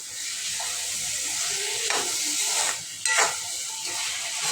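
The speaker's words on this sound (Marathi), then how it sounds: "चांगलं परतून घेऊ" Cluster beans, capsicum and brinjal sautéing in a pan, a steady hiss and sizzle with two louder scraping stirs partway through, no voices.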